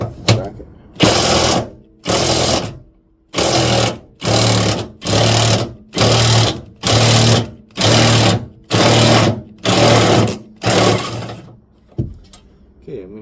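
A ratcheting socket tool undoes a car battery bracket in about a dozen loud, close bursts of rapid clicking, each lasting under a second with short pauses between.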